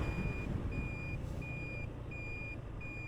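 Heavy traffic on a busy Bangladeshi highway between Bangabandhu Bridge East and Elenga, with a steady low rumble of trucks and a truck's reversing alarm beeping repeatedly and evenly close by.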